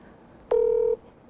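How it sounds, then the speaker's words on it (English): A single steady telephone dialing tone, one clear beep of about half a second, heard alone against a quiet background just before a phone call. "So I give my mom a phone call."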